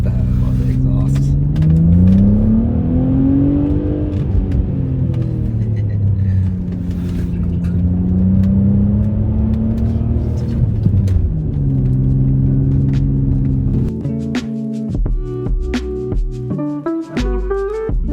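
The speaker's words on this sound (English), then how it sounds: "Pop, pop, pop. I love that. I love the exhaust." An Audi B5 S4 revs in a park, its engine note rising and falling through a deep exhaust drone over several long pulls, ending with a few choppy bursts of exhaust pops as the throttle comes off.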